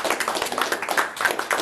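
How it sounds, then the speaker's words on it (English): Scattered applause from a small audience at an HOA board meeting in Chandler, Arizona: uneven, moderately loud hand claps in a brief burst with no voices over them. "I first just want to applaud Richard for the job"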